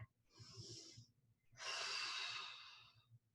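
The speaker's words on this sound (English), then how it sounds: "you're gonna take a deep breath." A person demonstrating a deep breath: a short breathy inhale, then a longer, louder airy exhale through the mouth, close and quiet with no talking.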